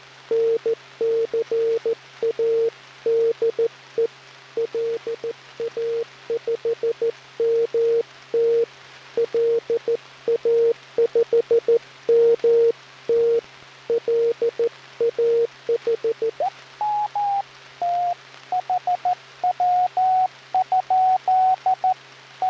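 A strong Morse code signal comes through on a German WWII agent radio, with steady on-off beeping tones in rapid rhythmic groups that shift to a slightly higher pitch partway through, over a faint constant hiss.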